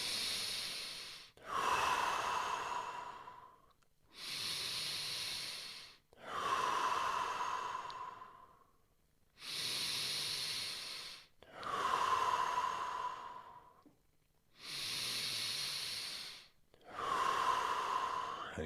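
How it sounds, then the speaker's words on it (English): Five slow, deep breaths during a breathing exercise, each a long airy inhale followed by a hissing exhale, close and steady with brief silent gaps between them. "round 3, 5 deep breaths."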